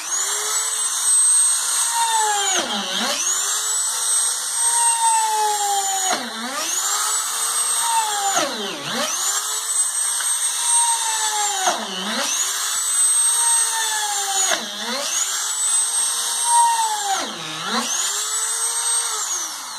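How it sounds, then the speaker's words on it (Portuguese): A power drill bores into a reused wooden crate, its whine swooping down and back up in about seven repeated cycles as the bit bites and frees, steady and close with no talk. "Tomei a madeira aqui. Vou furar."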